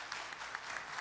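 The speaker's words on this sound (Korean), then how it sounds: "여러분 다시 한번 뜨거운 박수 부탁드리도록 하겠습니다" Conference attendees at an agricultural strategy session of the Jeju international expo applaud a presenter: a short, fairly soft burst of dense, continuous clapping with no speech over it.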